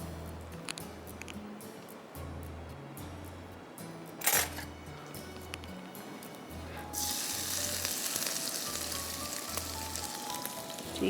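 Whole red chilies and crushed garlic frying in hot oil for a biryani tempering, a faint crackle that swells into a louder, steady sizzle, with a rhythmic low hum beneath.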